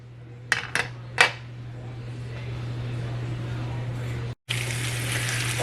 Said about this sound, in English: I'm going to wash this frying pan out